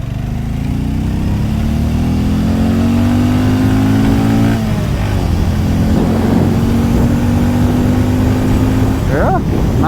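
Hero Hunk 440 (2026) motorcycle, 27 horsepower, accelerating on a test ride, engine note rising steadily through the gears with a brief drop between shifts, loud and close under wind rush.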